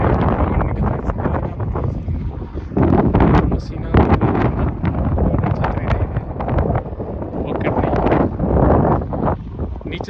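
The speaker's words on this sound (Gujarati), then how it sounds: "પવન એકદમ" Strong wind buffets the microphone over a farm field being cleared by a JCB, a loud gusting roar with rising and falling bursts throughout.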